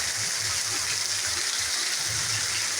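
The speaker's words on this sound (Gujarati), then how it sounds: "અમારે તો રાજુલામાં હાવ ધોમે ધોમ વરસાદ છે" Heavy rain pours down in a steady, dense, close hiss that does not let up, with no voices over it.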